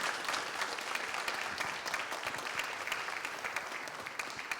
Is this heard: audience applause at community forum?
yes